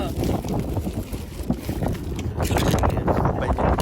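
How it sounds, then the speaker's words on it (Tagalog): Strong wind buffets the microphone in a steady, roaring rumble that swells louder in the second half, with faint voices in the background, while fishing. "Kasi mahangin ngayon."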